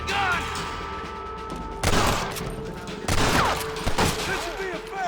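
Gunfire in Red Dead Redemption, heavy shots and impacts over a dense in-game ambience with a few loud bursts, and no talking.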